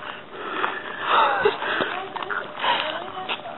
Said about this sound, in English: There's a hedgehog over here near the door.